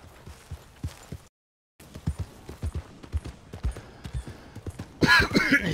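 Horse hooves clip-clop in Red Dead Redemption 2, a quick, fairly regular run of soft thuds that pauses for a moment and resumes, ending under a burst of louder hissing noise.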